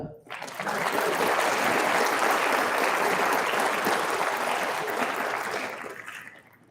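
An audience applauds at a science and engineering fair awards ceremony in Connecticut, steady dense clapping that swells in quickly, holds for several seconds and then fades out.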